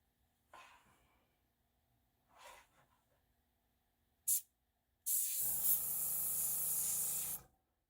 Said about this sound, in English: I'm going to swap to my airbrush.